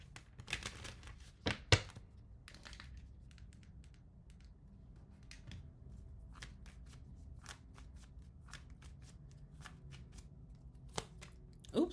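Soft tarot card shuffling with scattered riffles and taps on a table, quiet and close, a few sharper knocks early on, no talking.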